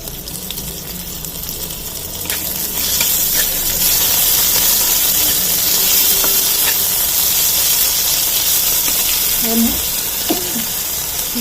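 Ginger garlic paste and spices frying for egg curry, a loud, continuous hiss and sizzle that builds after the first few seconds, with occasional stirring clinks and a voice speaking now and then.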